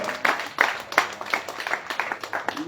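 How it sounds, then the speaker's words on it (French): Audience applause at an evening conference on the Place des Caraïbes in Le Carbet, Martinique: scattered, uneven clapping with distinct individual claps rising and falling in a loose rhythm, moderately near and fairly light, with no talk over it. "Mesdames, messieurs, je vous demande d'applaudir Madame Pascal Perrier."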